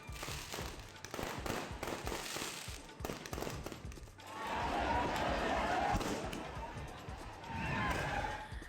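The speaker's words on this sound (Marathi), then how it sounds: "पुतळा परिसरात फटाक्यांची आतषबाजी करण्यात आली" Dense crackling of firecrackers and fireworks bursting in rapid, continuous volleys, loud and sustained, with a crowd murmuring underneath.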